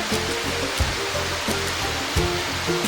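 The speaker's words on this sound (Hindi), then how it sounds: "और नीचे ये दूसरा वाटरफॉल है जो ये नीचे गिर रहा है" Malimunda waterfall in Koraput, Odisha roars with a steady, dense rush of falling water, close and loud, carrying on without pause.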